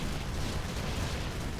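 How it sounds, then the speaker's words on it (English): Big, sustained explosion roar in the video game Infested Planet, a dense continuous rumble that fills the whole moment at steady loudness without pauses. "Big explosion."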